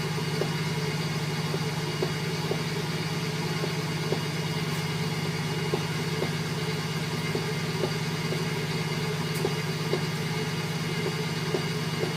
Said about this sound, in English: So just a touch of oil in there, and then it's going into the microwave.